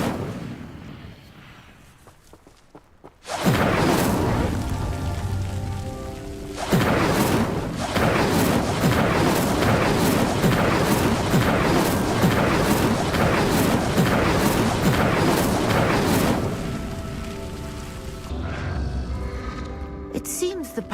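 In Hogwarts Legacy, the Incendio fire spell lights pyres with a sudden loud roaring whoosh. It swells into a sustained crackling rumble with rapid pulses for over ten seconds, then fades back to quieter background tones.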